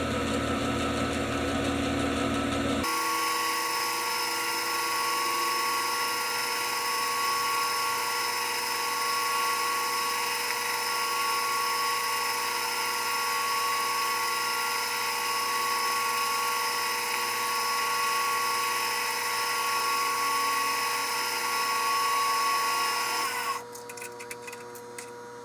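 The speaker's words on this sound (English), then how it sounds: "use automatic feed on the low setting when reaming." A machine reaming on automatic feed at its low setting while making a lift lever shaft, a steady close whirring drone with a high whine that holds evenly for most of the run before cutting off near the end.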